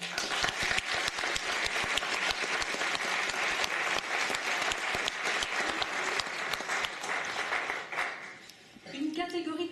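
Sustained loud applause from a graduation ceremony audience, dense steady clapping that briefly dips near the end before resuming, with some crowd noise mixed in.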